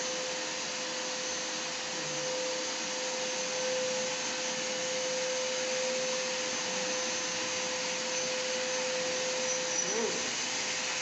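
A steady vacuum cleaner drone fills the room while it sucks up fallen paint from the floor, a continuous airy roar with a fixed whine, close and constant throughout.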